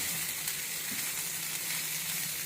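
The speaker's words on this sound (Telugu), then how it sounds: "ఇలా ఒక 1 మినిట్ ఇది కూడా అంతే కలియపెట్టుకుంటూ ఉండాలి" Cabbage salad is stirred in a hot pan, with a constant close sizzle and light stirring scrapes throughout the short stretch.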